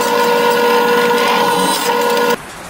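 A power drill with a 9/64 bit drills holes, whining loudly and steadily for about two seconds, its motor tone holding even, then cuts off abruptly leaving quiet room noise.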